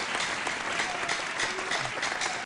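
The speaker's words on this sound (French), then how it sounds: "Je crois véritablement qu'on devrait l'applaudir très," A studio audience on a TV show set applauds Maman Anne-Marie Izié, dense steady clapping filling the whole moment at an even level with a few faint voices mixed in.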